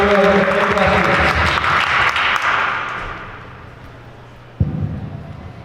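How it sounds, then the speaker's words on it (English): A conference audience at a tech meetup applauds the panel, dense clapping loud at first, then thinning and fading out, with a thump near the end. "Give a huge round of applause."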